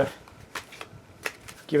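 A large deck of event cards for a cooperative board game is shuffled close up in a few quick riffling bursts, with brief talk just at the end.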